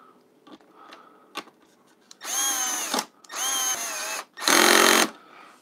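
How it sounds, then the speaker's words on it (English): Power drill driving a screw into the air vent of a BMW R1250GSA motorcycle, heard as three loud, close whirring bursts of about a second each, separated by short pauses, after a few quiet clicks and taps. "So let's get that screw in first"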